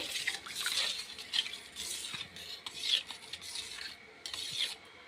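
A spoon swishes and scrapes through boondi raita in a bowl, with soft wet rasping strokes repeating at a steady pace, close and fairly quiet with no voices.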